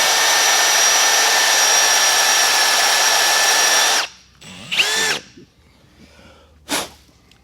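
A power drill with a HyperStep step drill bit bores steadily for about four seconds, a loud continuous whine, then stops, followed by a few brief squeaky scraping sounds.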